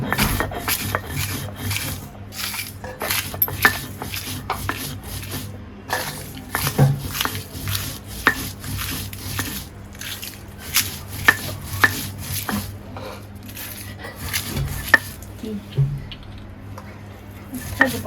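Boiled potatoes are mashed by hand for Bengali bhorta, giving soft, irregular squishing and pressing thumps at close range that repeat steadily throughout.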